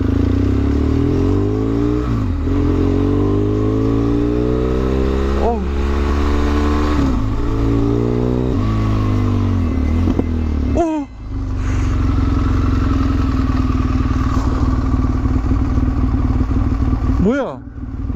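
A motorbike engine revs repeatedly with rising and falling pitch as it is ridden and turned back around, loud and close, with brief drops between throttle bursts.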